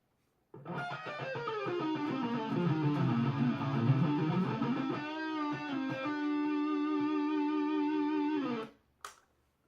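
A distorted electric guitar runs down and up a scale through a Boss PS-6 Harmonist pedal, each note thickened by an added layered pitch, ending on a held note and a short click.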